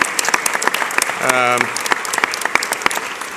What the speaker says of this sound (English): Can we give all of our speakers a big, big round of applause?